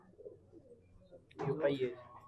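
A pigeon coos softly once near the end, after quiet background murmuring; the call is low and close.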